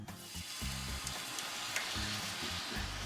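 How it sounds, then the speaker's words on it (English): Canned French onion soup hits a hot 14-inch skillet with a steady, close sizzle and hiss that carries on without a break for a few seconds. "I'm gonna go ahead and get my French onion soup down in there"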